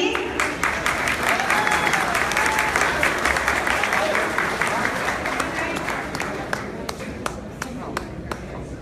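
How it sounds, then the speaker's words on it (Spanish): A crowd at a political party election event applauds in a steady, dense wash of clapping that holds for several seconds, then thins into scattered, distinct claps near the end. "Un fuerte aplauso para Noemí"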